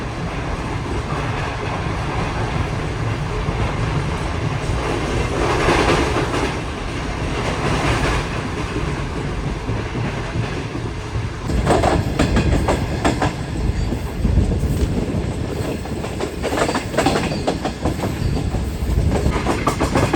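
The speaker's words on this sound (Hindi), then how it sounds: "तो कुछ इस तरह की स्पीड में ट्रेन हमारी दौड़ रही है फ़िलहाल खानेवाल की तरफ।" The Shah Hussain Express passenger train runs at speed toward Khanewal, heard from on board as a loud, steady rumble with rhythmic clickety-clack from the wheels that grows harsher and busier partway through.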